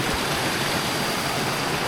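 A loud, continuous broadband roar of falling water from a waterfall near gold mines, heard close and unbroken throughout.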